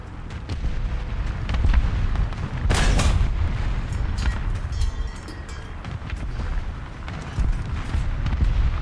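A tank cannon in War Thunder fires a heavy booming shot amid continuous battlefield rumble and engine noise, with a sharp loud blast near the middle and lower thuds scattered around it.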